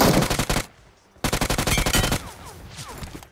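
Rapid automatic gunfire in PUBG Mobile, a loud burst of closely spaced shots, a brief pause, then a second longer burst trailing into scattered echoing cracks and lighter distant shots.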